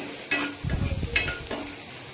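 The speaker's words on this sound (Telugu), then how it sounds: "తర్వాత కొంచెం ఎండు కొబ్బరి కూడా వేసుకొని రోస్ట్ చేసుకోవాలి" Cloves, cinnamon, red chillies and dry coconut roast in a pan for mutton curry, with a few scraping stirs over a soft sizzle, close and brief.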